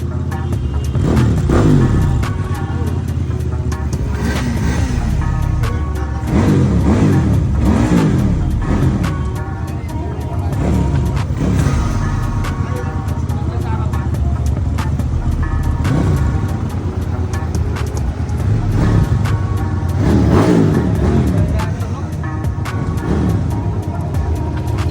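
A Britol 400S motorcycle engine revving repeatedly during a sound check at a dealership in Kawayan City, Isabela, loud and close, with rhythmic throttle blips rising and falling over a steady idle rumble.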